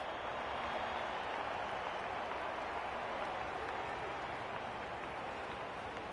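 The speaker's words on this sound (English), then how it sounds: "The crowd noise tells you all you need to know." Stadium crowd noise in an AFL 26 football video game, a steady broad roar from a large distant crowd with no distinct claps or voices standing out.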